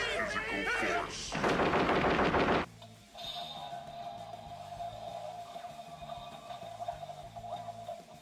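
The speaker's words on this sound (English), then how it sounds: "There's that shooting sound effect." Electronic shooting sound effect from a HIYA Toys ED-209 figure from RoboCop 1987, a loud burst of rapid-fire gunfire lasting about two seconds, then a quieter electronic hum.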